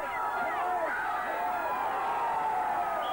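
A crowd cheering for a strongman competitor in a brick-lifting event at the 1984 Britain's Strongest Man contest, a distant, sustained wash of shouting and cheering with a commentator's voice over it.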